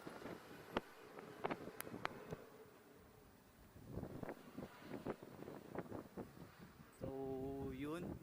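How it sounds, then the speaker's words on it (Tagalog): Strong wind buffeting the microphone with a steady roar, while people talk intermittently and an engine hums near the end. "malakas yung hangin"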